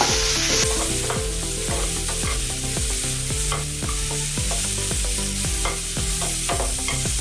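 Deseeded tomatoes soften in a little oil for a dhaba-style palak paneer, a constant bright sizzle running beneath steady, repeating background music, with no speech.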